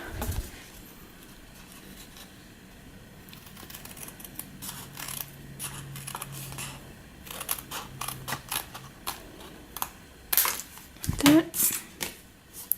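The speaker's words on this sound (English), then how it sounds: "last I'm just gonna trim off this extra here at the bottom with my scissors" Quiet snips of scissors cutting paper, a few short crisp clicks and rustles near the end after a stretch of soft handling noise.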